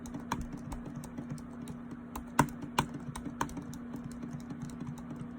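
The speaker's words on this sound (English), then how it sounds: "this is my 7th keyboard failure on this 2018 MacBook Pro" Keys tapped on a 2018 MacBook Pro butterfly keyboard with a failing key mechanism: quiet, irregular clicks in short bursts with a few sharper louder strikes, over a steady low hum, no voices.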